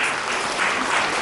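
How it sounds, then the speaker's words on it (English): Applause at a memorial service celebrating a life, a brief, continuous wash of many hands clapping at steady loudness with no talk over it. "A round of applause again for"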